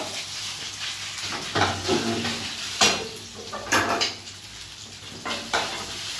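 Prawn paste and kochu bata are stirred in a pan, with a close, repeated rhythm of spatula scrapes and clanks over a low sizzle.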